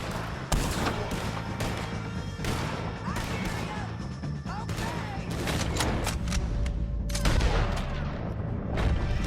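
Gunfire in Red Dead Redemption 2 during a shootout with O'Driscolls, rapid repeated sharp shots and cracks in irregular bursts over a busy rumbling background, loud and continuous throughout.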